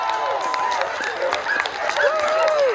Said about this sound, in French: On applaudit très fort celui qui est en préparation